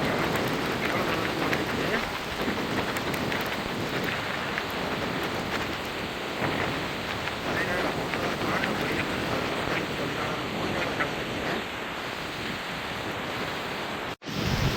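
Heavy rain and wind roar during a storm in Jaffna, a dense continuous wash of noise with gusty swells, loud and unbroken throughout, with a brief sharp dropout near the end.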